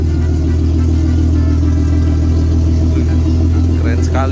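A drift car at an Indonesian international stuntman show garage runs its engine with a loud, steady low rumble close by and a brief rise near the end, while people talk over it.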